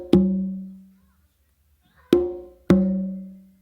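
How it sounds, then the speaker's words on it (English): Open tones ring out on a set of three congas, including the tumba, played in the makuta rhythm: one resonant strike, a pause, then two more in quick succession, each sustaining and fading, with no talk. "it's an open and then open, open, like together"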